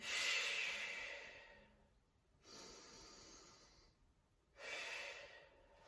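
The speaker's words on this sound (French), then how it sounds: "Donc j'inspire et j'expire." Slow, audible breaths during an advanced mat Pilates exercise: three long airy breaths, in through the nose and out through the mouth, close and alone with no talking.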